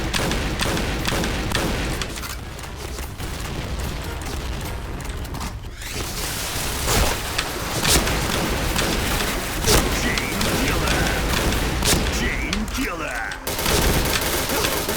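Rapid gunfire in the shooter game Point Blank: dense, continuous bursts of shots and thuds with booming impacts, loud and close, under a player's occasional talking.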